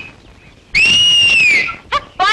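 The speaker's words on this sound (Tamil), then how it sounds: "பெட்ரோல் பங்க் விசில் அடிக்குது, அங்க பாரு" A loud, sustained whistle rings out near a petrol pump in a Tamil film scene, holding one shrill tone for about a second. Two brief, harmonic-rich shrill bursts follow close after.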